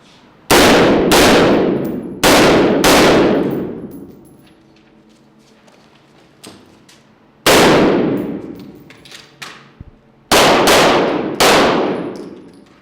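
Loud, sharp gunshots at a police firing range ring out in separated groups of two with long decaying echoes, a few quieter clanks between them.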